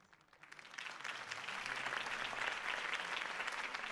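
A crowd breaks into applause after a campaign speech in the Batman Telltale game, clapping swelling quickly from quiet to a steady, dense roar that holds to the end.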